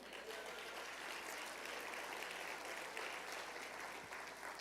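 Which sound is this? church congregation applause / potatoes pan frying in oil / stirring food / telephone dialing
church congregation applause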